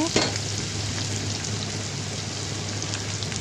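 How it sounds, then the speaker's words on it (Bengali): Onion sizzles steadily in hot oil in a pan after garlic has been lightly fried, a close, even crackle with faint stirring and a brief clatter at the start. "তারপরে আমি এই যে পেঁয়াজটা হালকা ভেজে নিচ্ছি"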